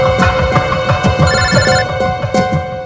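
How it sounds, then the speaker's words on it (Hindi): A telephone bell rings loudly and close, in repeated bursts over a steady electronic tone. "एसीपी साहब का फोन"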